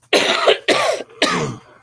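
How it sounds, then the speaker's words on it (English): Three loud, harsh coughs in quick succession, each a broad burst lasting about half a second, close to the mic with no talking. "Sorry about the coughing."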